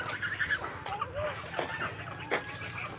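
Ducks call with short honking quacks outdoors, loud and close, while people talk over the birds and continuous background noise.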